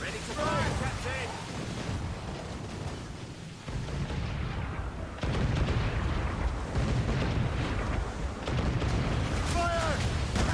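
Ship cannons in Assassin's Creed Rogue boom in heavy, rumbling volleys over a constant roar of wind and sea, with voices calling out at times.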